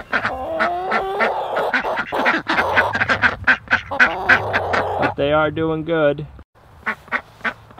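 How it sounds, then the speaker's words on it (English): Domestic ducks quack repeatedly in the background of a rural yard with a rooster nearby, loud and irregular, while a person talks over much of it. "I'm sure you can hear the ducks in the background."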